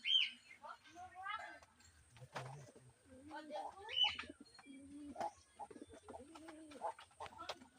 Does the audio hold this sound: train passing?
no